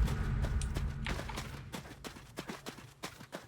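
Horse hooves clip-clopping in the video game Adios, a quick run of near, distinct hoofbeats over low background rumble that gives way to steady rhythmic steps.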